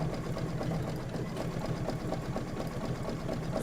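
A sewing machine stitches a sweater appliqué with yarn detail on an autumn-themed Kimberbell quilt block, running steadily at close range with a fast, even mechanical rhythm and no talking.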